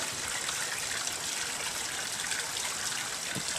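A koi pond waterfall runs in a steady, even splash and trickle of falling water, continuous and close, with no voices over it.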